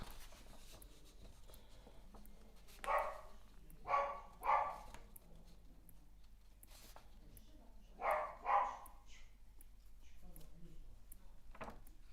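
Small dog giving two short bursts of barking after a doorbell, each a quick cluster of yaps, fairly faint and set against quiet room noise.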